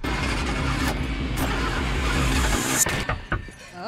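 Car engine revving in a drama scene, a loud steady low rumble that drops off near the end, with brief sharp noises over it.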